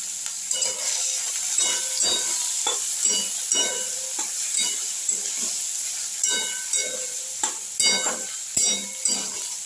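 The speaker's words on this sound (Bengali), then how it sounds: "পেঁয়াজ দিলাম" Onion frying in a pan at home in a Bengali kitchen, giving a steady bright sizzle and hiss with repeated scraping stir strokes throughout, close and fairly loud with no talking.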